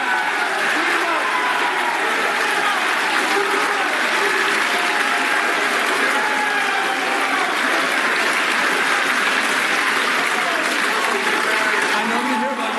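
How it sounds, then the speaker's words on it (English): Loud, sustained audience applause filling the whole stretch from a live news roundup show's crowd, dense clapping with some cheering, steady and close throughout with no break. "That was the loudest applause we got."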